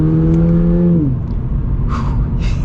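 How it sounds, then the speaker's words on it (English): A base-model 2022 Toyota 86 pulls away from a standstill. Its engine hum holds a steady droning tone, then drops in pitch, over a loud, constant low rumble of road and cabin noise. "I wanted to get to a complete stop here so I can do another acceleration."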